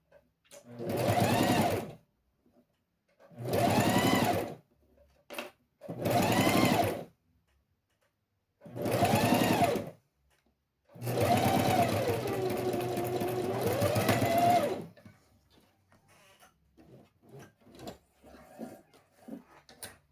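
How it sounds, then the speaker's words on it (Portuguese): Domestic sewing machine stitching a security seam on a pencil case, four short loud runs of rapid whirring separated by pauses, then one longer run that changes pitch midway, ending in quiet handling noises. "Eu comento em todos os vídeos que eu trabalho em uma máquina doméstica"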